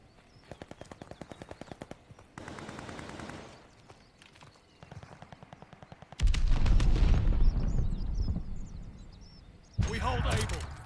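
Rapid automatic gunfire rattles in bursts in the Call of Duty Vanguard video game, fast regular volleys giving way to heavier, louder blasts and booming explosions toward the end.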